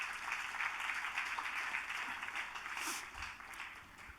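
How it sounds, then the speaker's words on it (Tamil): An audience at the inaugural function of a music and arts festival applauds, a soft, even wash of distant clapping that holds steady throughout. "ஸோ ஒரு பெரிய கரகோஷம் கொடுங்க அவருக்கு"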